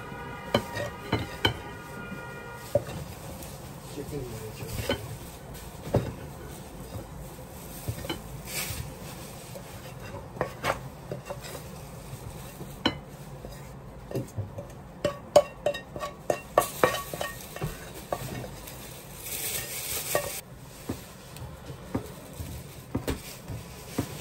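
Milk being mixed into a besan burfi mixture in a pan off the heat, with quiet intermittent scraping and clinks of a utensil against the pan, close and sparse.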